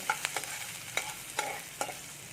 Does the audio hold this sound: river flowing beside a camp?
no